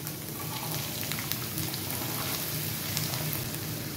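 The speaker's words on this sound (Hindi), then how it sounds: "अब डाल देंगे हम 1 प्याज।" Chopped onion tossed into hot cooking oil with green chillies for a quick macaroni snack, giving a steady, even sizzle that holds at one level throughout with no voices.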